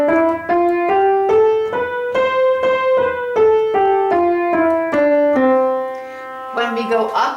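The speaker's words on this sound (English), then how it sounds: "a major scale sounds like this." A major scale played ascending on a pitched instrument, a dozen or so clean separate notes stepping upward at an even pace, loud and alone, ending on a sustained final note.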